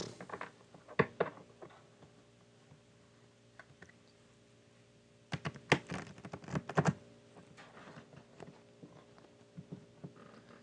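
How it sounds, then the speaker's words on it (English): Quick bursts of papery clicking as playing cards are riffled, two main flurries separated by quieter pauses, close and fairly soft. "these cards do not want to shuffle tonight"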